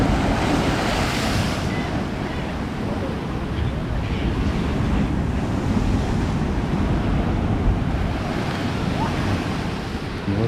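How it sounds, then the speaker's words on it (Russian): Big storm waves crash against the sea shore during a severe storm at Yalta, a continuous loud roar of surf mixed with heavy wind noise on the microphone, and no voices. "Вот идет большая волна."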